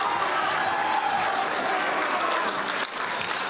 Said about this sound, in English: Full applause of the crowd